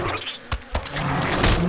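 A swarm of bees summoned in the game Lord of the Rings Online buzzes in a dense, continuous drone, close and fairly loud, broken by a couple of sharp combat hits.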